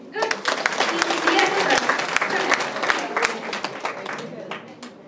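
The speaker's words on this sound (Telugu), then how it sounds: "క్లాప్స్ అండి." An audience at a Dhyanotsav meditation event in Kothapet claps for several seconds, a dense, fairly close burst of applause that slowly thins out, with voices mixed in.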